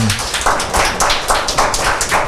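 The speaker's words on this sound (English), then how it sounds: "yes, please, give yourself applause." Audience applause at a public forum, a dense close wash of hand claps with a rhythmic pulsing swell, no talking.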